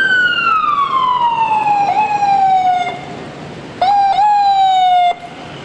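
A wailing ambulance siren in Bedford-Stuyvesant, Brooklyn, its tone sliding steadily downward, then cutting off and returning with a few sharp yelps before falling again; loud and close throughout, with no voices.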